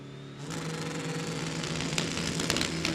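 Engines roar up sharply as drag race cars, including a 1991 Mustang with a 5.2 flat-crank Shelby engine, launch off the line, a loud sustained revving with rising pitch and gear-change surges.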